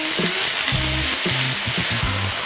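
Butterflied chicken breasts sizzle in a frying pan, a loud, steady crackling hiss that continues without a break throughout.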